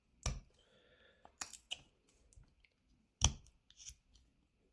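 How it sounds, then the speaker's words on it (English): A knife whittling wood into the end grain, with a few sharp scraping cuts and small clicks spaced irregularly, close and quiet with near silence between strokes. "we're cutting down right into the end grain basically, and so the wood wants to split."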